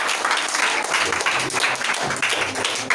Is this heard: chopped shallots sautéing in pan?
no